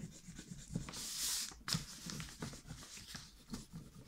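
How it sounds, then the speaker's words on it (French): A rubber eraser scrubs pencil lines off paper while an envelope is being made, giving rhythmic back-and-forth rubbing strokes, close and fairly soft, with no talking. "Donc je gomme."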